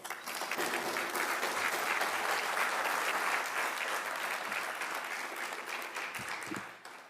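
A large audience at a State Bar of Texas breakfast applauds a legislative committee chair, with dense, sustained clapping that fills the room for several seconds before tapering off at the end.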